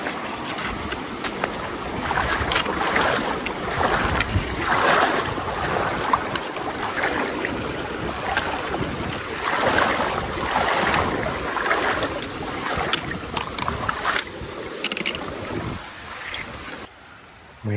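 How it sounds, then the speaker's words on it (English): Shallow river rushing around a hiker wading an almost knee-deep crossing on a canyon trail to a campground, a steady broadband wash of flowing and splashing water throughout, close and fairly loud, with no talk. "almost knee-deep water crossing."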